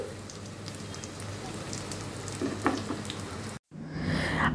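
Steak fries in a pan with a dense, crackling sizzle that runs steadily, briefly cuts out near the end, then resumes.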